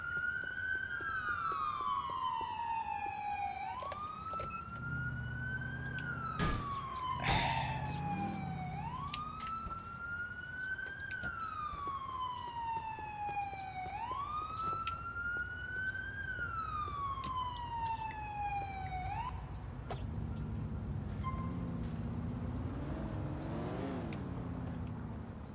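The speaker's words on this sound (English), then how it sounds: "I'm gonna turn off those damn sirens" A video game police car siren wails, sweeping up and down in repeated cycles, with a few sharp bursts midway, then shifts to a lower, choppier warble near the end.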